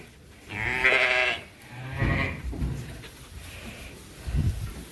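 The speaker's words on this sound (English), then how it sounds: "They're ewes that lost their lambs this year." Several shorn-day ewes bleat close by in a pen, a long wavering call followed by two or three shorter ones, loud and clear with little else around.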